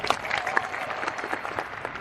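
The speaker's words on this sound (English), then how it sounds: "Clap it up." Conference audience at VeeCon 2023 clapping steadily for two seconds, a dense crowd applause with a few sharper individual claps and cheers mixed in.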